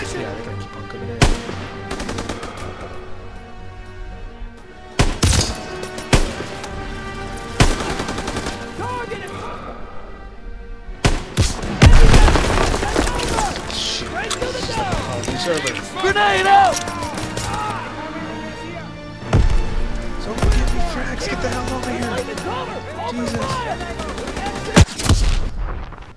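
Call of Duty WWII campaign combat fills the scene with loud gunfire: sharp single rifle cracks, rattling automatic bursts and heavy blasts, close and constant, with voices talking over the battle.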